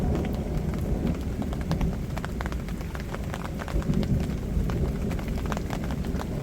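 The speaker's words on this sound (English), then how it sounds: "It's just constant thunder." Deep, continuous rumbling thunder rolls on without pause, with a crackle of rain pattering over it.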